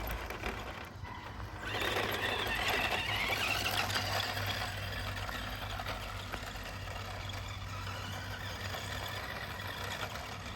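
A 1981 Tamiya Ford Ranger F150 XLT radio-controlled truck runs at full throttle, its electric motor giving a rising high whine that settles into a sustained buzzing drone at moderate distance, with no speech.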